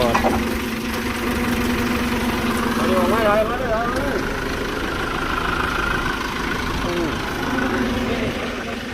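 A Hino WO6E 165 hp diesel truck engine idles steadily nearby, a low continuous rumble running throughout with some background noise and faint voices.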